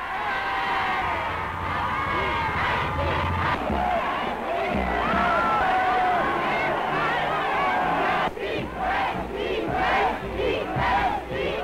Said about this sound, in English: the same crowds that only yesterday hailed Schuschnigg's promise of continued liberty, today cheer Hitler